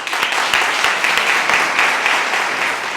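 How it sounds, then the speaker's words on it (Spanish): A crowd at a local political candidacy presentation in Montijo claps to welcome a speaker, warm and fairly loud, with a few sharp individual claps standing out from the steady applause. "quiero que le recibáis con un fuerte aplauso"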